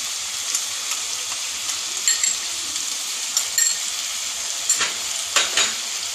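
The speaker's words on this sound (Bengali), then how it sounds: "এবারে আমি চার মগজ আর পোস্ত বাটাটা দিয়ে দেবো।" Melon seed and poppy seed paste stir-fried in a pan for a vegetable curry, a steady close sizzle with occasional scraping stirs and brief louder clatters of the spoon.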